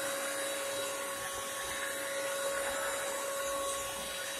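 A Bissell Crosswave Premier wet dry vacuum runs steadily while picking up excess moisture from a floor, a constant close motor whine with a fixed tonal hum and no talking.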